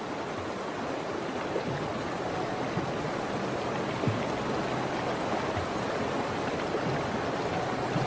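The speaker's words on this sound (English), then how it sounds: "the waters are cold and fast, too fast for the tiny calves" Cold, fast-flowing river water rushes in a steady, dense roar, loud and close, with no voices over it.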